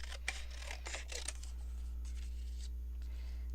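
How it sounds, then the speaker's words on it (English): Scissors snipping vellum paper to trim it narrower, a few quick close crisp cuts in the first second and a half, then quiet handling against a low steady hum. "I just have to cut it a little bit"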